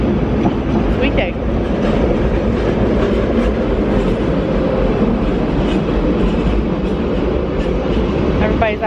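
Commuter train running on rails on a busy weekday morning, a loud, constant rumble with rattling clickety-clack and occasional faint squeals, heard from inside at close range throughout.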